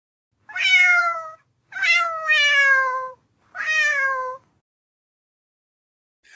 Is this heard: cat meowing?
yes